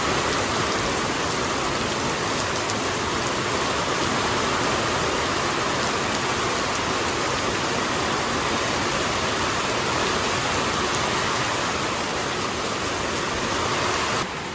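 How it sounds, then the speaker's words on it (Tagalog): Heavy rain pours down continuously with floodwater running into a kitchen, a dense, even roar of falling water that stays loud and unbroken throughout with no voices. "Dahil po sa sobrang lakas ng ulan ay tubig po ay napunta na dito, bumahan sa kusina"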